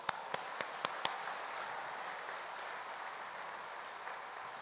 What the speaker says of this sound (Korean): 우리의 힘 되신 하나님께 감사의 박수 하시기 바랍니다.